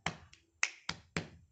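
Four crisp finger snaps in a samba rhythm, close and clear with no other sound: two lower, fuller snaps alternating with brighter, sharper ones, each a quick isolated crack.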